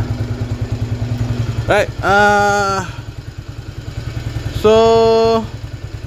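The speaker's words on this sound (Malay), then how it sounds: "bunyi enjin dia tak adalah sesmooth yang disangkakan, sebab kita pakai blok 57 piston dome, dan cam kita pakai cam racing lah" A motorcycle engine fitted with a racing cam and dome pistons idles with a lumpy, uneven pulsing beat, up close and loud, as someone speaks briefly over it.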